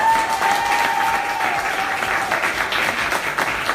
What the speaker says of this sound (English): Can we please just give a round of applause for Juliana?